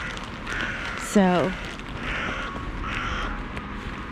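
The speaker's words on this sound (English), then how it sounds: "we got a few gulls here." A single gull gives a short, loud harsh call nearby amid background outdoor noise, with someone speaking briefly.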